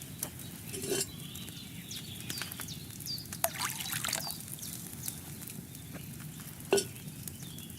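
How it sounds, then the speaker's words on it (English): Wine poured from a pitcher into a cauldron in Kingdom Come: Deliverance II gives a quiet, steady trickling and sloshing with a few soft clinks, with no talking. "First, you have to pour the right base into the cauldron."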